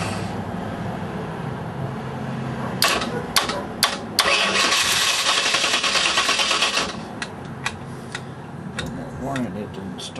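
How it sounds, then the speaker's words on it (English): A Ford 331 stroker engine cranks on a dragging starter in a long steady churn with clicks and ticks before and after, never catching, while someone talks nearby. "Still that starter's dragging for some reason."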